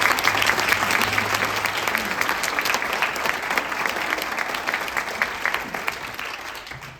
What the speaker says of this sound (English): if you could please give them a warm round of